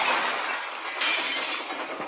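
Glass windows in train coaches shatter as a blast shock wave hits. The sound is a dense, hissing wash of breaking glass with a sharp fresh burst midway, loud and continuous with no voices.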